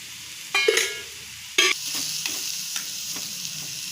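Ridge gourd being stirred and sautéed in a pan with a little crushed peanut, two sharp scraping stirs over a steady soft sizzle, close and clear with no talk.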